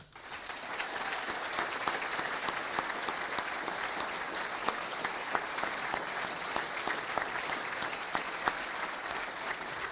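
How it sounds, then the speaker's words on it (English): An audience at the WRTC amateur radio closing ceremony gives the event team a round of applause: loud, sustained, dense clapping from a large crowd that holds steady for the whole stretch. "I'd like to ask for a round of applause for that team headed up by David"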